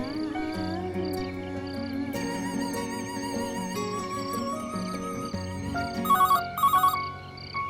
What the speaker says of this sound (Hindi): इतनी रात को कौन फोन कर रहा है?